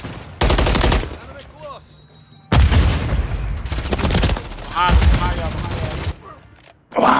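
Loud bursts of automatic gunfire from a Modern Warfare 3 multiplayer match, with rapid volleys in three long stretches separated by brief lulls, as a player talks over the firing.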